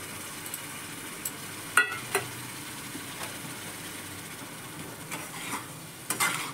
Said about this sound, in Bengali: পনিরটা আমি ভালো করে মিশিয়ে নেব